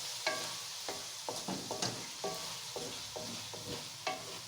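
A spoon scrapes and knocks around a pan while macaroni ingredients with vinegar are mixed, in a series of distinct stirring taps over a soft sizzle, fairly quiet and with no talking.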